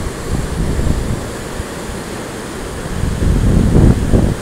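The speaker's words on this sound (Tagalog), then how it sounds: "Grabe, ang lakas ng current ng tubig." A strong river current rushes in a continuous broadband roar, steady and close, swelling louder toward the end, with no talk over it.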